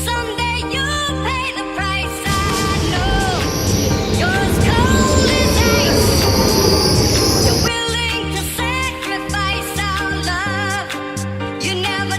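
Train ride to Bern, Switzerland, with loud rolling rail noise and metallic wheel squeals, a rumbling rush in the middle and rhythmic clatter around it, continuous and close throughout.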